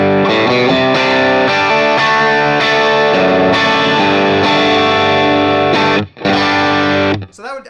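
Electric guitar played through an overdrive pedal at full drive with the tone control turned up high, loud distorted chords ringing out in a steady sequence before a brief cut and a few final scratchy strums.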